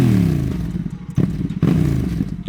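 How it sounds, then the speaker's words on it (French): Honda Africa Twin 1100 motorcycle fitted with a Giannelli exhaust, loud and near, engine note rising with revs and dropping between sharp gear shifts, with a raspy roar throughout. "on a la chance aujourd'hui d'être équipé d'un bel échappement Giannelli qui offre une sonorité incroyable, vous l'entendrez toujours sur des petits inserts"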